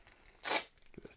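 Packing tape tears sharply off a Mythic Legions action figure box, a single loud rip lasting a fraction of a second, followed by faint rustles and soft taps close by.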